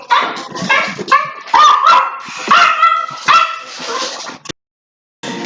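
A house dog barks repeatedly and close by, with a burst of rapid yips and whimpering barks in an irregular rhythm before the sound cuts off briefly near the end.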